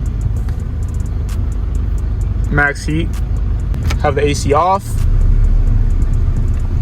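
A 1998–2001 Honda CR-V engine idles steadily with a low, even rumble while warming up, the heater fan running alongside, and someone speaks briefly over it.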